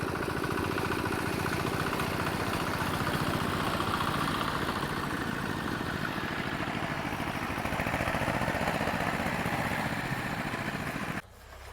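A walk-behind tractor hauling a load of firewood runs with a steady, buzzy single-cylinder drone, close and continuous for the whole stretch, then drops away sharply just before the end; there is no talking.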